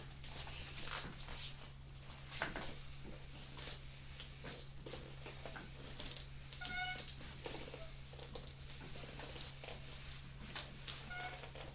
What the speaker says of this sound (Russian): Завершающее мяуканье на ночь называется было.